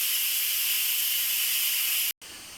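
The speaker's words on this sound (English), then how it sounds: "turn the vent to the venting position to release the pressure. Remember that the steam is very hot." Steam hissing from an Instant Pot pressure release vent, a loud, steady, close broadband hiss that stops abruptly for a brief moment near the end and then resumes.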